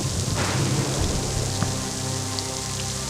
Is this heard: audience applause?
no